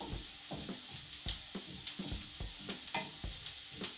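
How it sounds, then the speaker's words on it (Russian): Chicken wing coating frying in butter in a pan for homemade KFC-style wings, with a soft steady sizzle broken by repeated scraping stir strokes in an uneven rhythm, close up with no talk. "Мы обжариваем все это в сливочном масле, чтобы придать такой сливочный нежный вкус и аромат."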